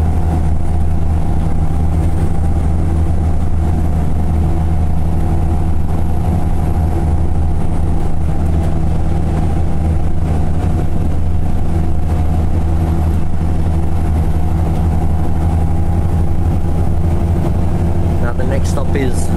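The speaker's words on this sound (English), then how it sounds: "That's the engine at 100 km/h" A bus engine drones at highway speed, around 100 km/h, as a loud and steady low hum with constant tonal layers, heard from inside the bus while a person talks over it.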